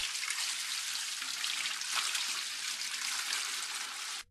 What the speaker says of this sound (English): Drain and clean the recovery tank.